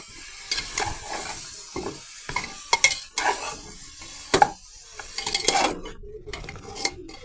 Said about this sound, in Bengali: একটু নাড়াচাড়া করে মিক্সড করে নিচ্ছি